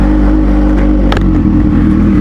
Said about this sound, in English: Wait till you hear this exhaust going through this parking garage and the tunnel on the way back to the shop.